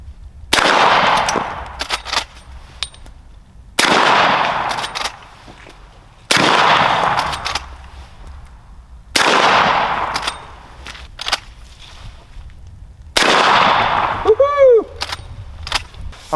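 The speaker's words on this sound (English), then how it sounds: "Let's go ahead and shoot some stuff. I'm gonna shoot this concrete brick." Five loud rifle shots from Hornady subsonic 45-70 rounds fired at a concrete brick, spaced about every three seconds, each a sharp crack with a ringing tail, the last followed by a brief metallic whine.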